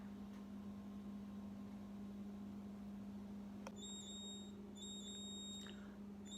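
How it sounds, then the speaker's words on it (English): A refrigerator's door-open alarm beeps quietly a few times in short repeated pulses over a steady low appliance hum. "That's the alarm that the refrigerator's making because I'm leaving it open for too long."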